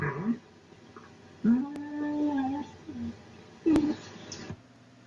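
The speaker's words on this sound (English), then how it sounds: "Here's a different type of wolf vocalization from this day." Wolves vocalizing in Yellowstone National Park: a few short, faint whimpering and whining calls in separate bursts, distant and quiet, with near silence between them.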